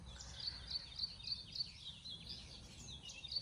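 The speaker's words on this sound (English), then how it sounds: "Can you hear all the voices of the birds?" Birds singing on a sunny morning, faint repeated high chirps at a steady rhythm over quiet, distant background hum.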